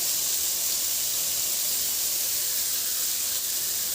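Garlic sizzles in oil in a frying pan beside browned tofu, a steady close hiss filling the whole moment without pause and without talk.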